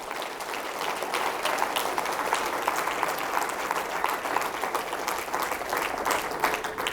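Steady, dense applause from a crowd at a church service, clapping continuously at an even level for the whole stretch without any speech.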